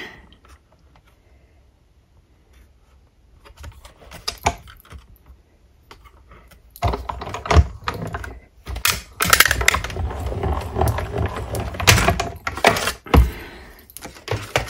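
A die-cutting machine presses a paper cutout for a golden Christmas ring decoration. It is quiet at first, then a loud, steady run of close clicking and rattling mechanical noise takes over for the second half.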